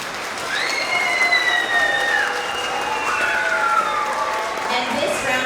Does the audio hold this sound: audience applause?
yes